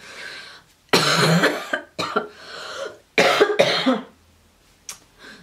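A woman coughs in several separate bursts: a harsh double cough, a short single one, then another strong double cough and a faint final hack, close and loud with quiet gaps between.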